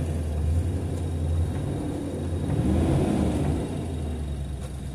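A 1998 Ford Explorer V8 with about 333,000 miles idling steadily right after a jump start, a continuous low engine rumble close by, with no voices.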